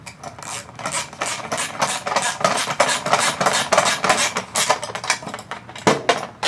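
A 10mm socket or Phillips screwdriver tightens screws on a 2024-2026 Mercedes-AMG CLE 53, making rapid rhythmic ratcheting and scraping clicks, close and continuous.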